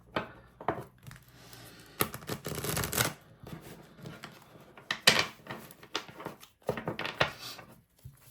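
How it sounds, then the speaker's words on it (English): Deck of tarot cards shuffled by hand in bursts of rapid riffling and slapping, with short quiet gaps between shuffles, close and fairly soft, no talking. "So let's shuffle the cards to see what comes up."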